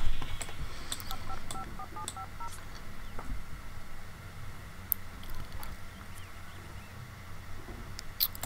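In The Sims 2, a phone is dialed with a short run of electronic keypad tones near the start, over a busy bed of game ambience and scattered clicks.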